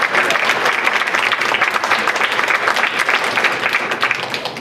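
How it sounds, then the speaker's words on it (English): A crowd at a school district safety forum breaks into loud, sustained applause, many hands clapping together in an even, unbroken roar from start to finish. "I think they deserve a round of applause"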